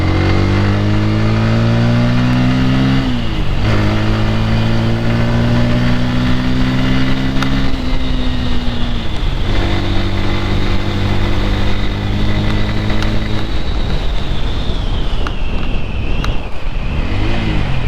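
A Bajaj N160 160 cc motorcycle is ridden and accelerated through several gears, the engine note climbing in repeated rising sweeps with shifts between them, loud and close with steady wind rush throughout and no speech.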